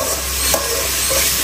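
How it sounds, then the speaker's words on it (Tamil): Tomatoes sizzle and fry in a hot pan as they are stirred, a steady close hiss with faint scraping throughout, no talking. "தக்காளி ஆட் பண்ணிப்போம்."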